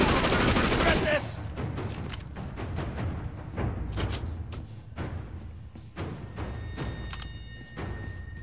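Gunfire in the video game Sleeping Dogs sounds as a string of sharp, separate shots with thuds and impacts, loud at first, then spaced out through the rest of the scene.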